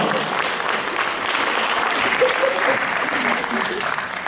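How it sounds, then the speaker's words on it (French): Audience applause for Déborah, a volunteer at a hypnosis show: sustained, dense clapping from a crowd over about four seconds, with a voice speaking over it. "on peut l'applaudir d'ailleurs, bravo Déborah"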